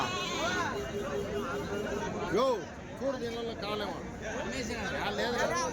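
Sheep and rams bleat repeatedly at the Kadiri Tuesday livestock market, with Nellore Jodipi rams present, their wavering cries rising over a busy crowd chattering nearby.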